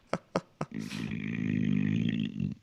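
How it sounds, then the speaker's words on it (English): A long, deep, rumbling burp into a microphone rolls on for nearly two seconds, loud and close, after three quick sharp taps. "Burping into a microphone."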